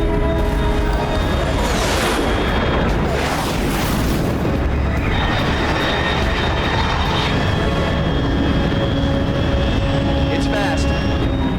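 High-altitude aircraft flying in Metal Gear Solid Delta, a broad roaring rumble with booming surges, loud and sustained, layered with music-like tones.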